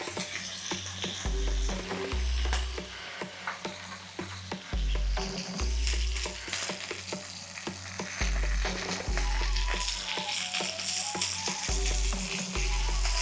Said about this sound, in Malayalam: മീൻ ചെറുതായിട്ടൊന്ന് ഫ്രൈ ആയാൽ മതി.